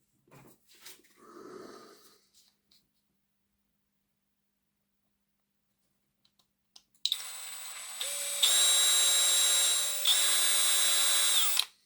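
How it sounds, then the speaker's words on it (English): A power drill bores a hole during work on a Hornby 0-4-0 tank engine model, starting after a quiet pause with a loud, steady high-pitched whine that steps up in speed; faint handling noises come first. "And then we'll drill a hole."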